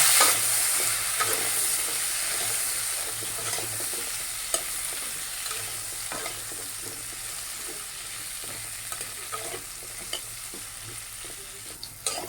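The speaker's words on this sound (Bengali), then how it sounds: "এই তেলের ভিতর আমি এখন দিয়ে দিব মিষ্টি কুটুন এটাকে আমি একটু ভেজে নিব" Sweet pumpkin frying in oil in a pan: a steady close sizzle and bubbling that lasts the whole time, with stirring and occasional sharp pops and clicks, and no voices.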